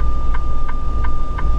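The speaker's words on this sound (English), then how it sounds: "The solid tone. That's my diff lock." A truck's differential lock warning sounds as a steady solid tone inside the cab, with an evenly spaced repeating beep over it and a low engine rumble on an icy, snowy road.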